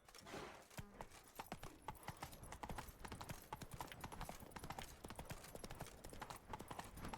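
Horse hooves clip-clopping in a steady trotting rhythm in the video game The Witcher 3, a continuous run of crisp, even hoofbeats throughout.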